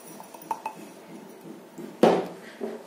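Eggs and sugar are whisked in a bowl for a butter-free Eid sweet, with light clinks of utensil on the bowl and one louder knock near the end. No one speaks.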